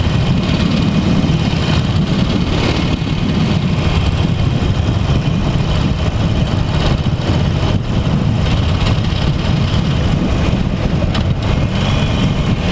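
A 2018 Harley-Davidson Roadster ridden at 80 km/h gives a steady, loud low engine drone blended with heavy rushing wind, unbroken for the whole stretch with no speech over it.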